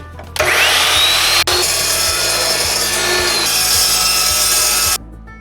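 Metal tubes being cut for a DIY welding cart, a loud, steady abrasive cutting sound that starts abruptly, runs continuously for several seconds with a brief dip partway through, then stops cleanly.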